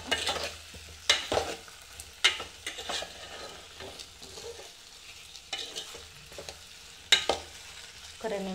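Spoon stirring a frying tuber curry with chili powder in a pan: irregular scraping strokes and clinks over a soft, steady sizzle, fairly close and moderately quiet.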